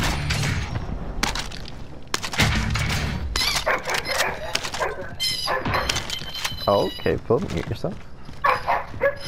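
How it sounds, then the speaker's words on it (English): A dog barks repeatedly somewhere in the room, with sharp bursts breaking through frequent talk and game gunfire from Call of Duty: Modern Warfare voice chat. "My dog is going crazy."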